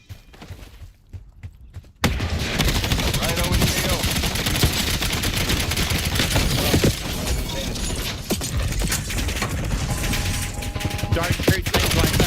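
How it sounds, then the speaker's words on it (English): Sustained rapid automatic gunfire in Call of Duty from hip-firing while walking and shooting at the ground, a dense continuous loud burst after a short quieter lead-in. "just to hip fire and walk and shoot the ground"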